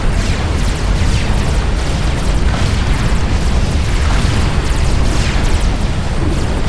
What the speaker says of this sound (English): Such a pretty explosion.